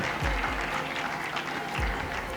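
Applause from a school quiz audience for a contestant who answered correctly in a lycée-versus-collège match, a dense wash of clapping that fills the whole moment with steady intensity.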